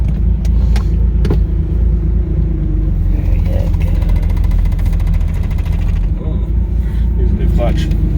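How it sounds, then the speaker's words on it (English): A 1977 Porsche 911 Turbo drives along with a chattering clutch, a steady low engine and road rumble carrying faint shuddering clicks, as people talk inside the car. "that's a chattery clutch"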